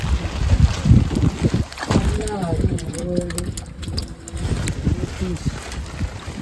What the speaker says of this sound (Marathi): वारा खूप आहे तिकडून